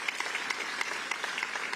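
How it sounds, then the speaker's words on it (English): Applause from an audience at a New York State government announcement, a steady patter of many hands clapping together for the full stretch, moderately loud and not far off. "Let's give her a round of applause."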